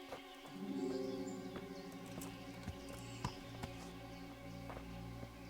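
Horses in the medieval game Kingdom Come: Deliverance, with a faint clip-clop of hooves and the odd whinny over a steady musical score, plus a few scattered birdcalls.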